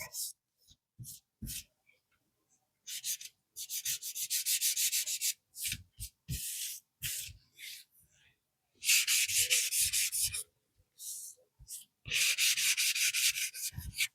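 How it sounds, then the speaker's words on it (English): Sandpaper rubbing back and forth along the sharp edge of a mixed media craft project in close, raspy strokes that come in bursts with short pauses, the longer runs later on. "we can sand the edge because it's a little sharp."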